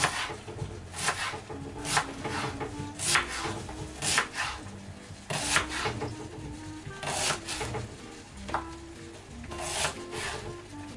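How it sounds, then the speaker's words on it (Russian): Knife cutting an onion into half rings on a cutting board at home, a steady series of close, dry slicing strokes and board knocks with no talk. "Я режу так пополам, потом делаю вот так вот и полукольцами."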